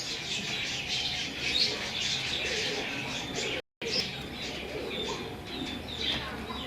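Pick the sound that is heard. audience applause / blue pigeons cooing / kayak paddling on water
blue pigeons cooing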